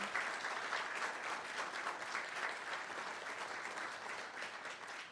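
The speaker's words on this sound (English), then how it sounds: "Let's give Miss Ella a great big round of applause as well." Dense, even applause from the audience at an Anderson County board meeting, many hands clapping steadily for about five seconds in honour of a student, fairly distant and sustained without talk.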